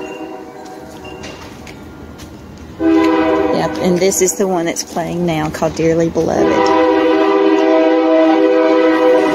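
A train horn sounds loudly and steadily as a train comes through a historic small town, Jonesborough, joined by a second tone partway through, while a person talks over it.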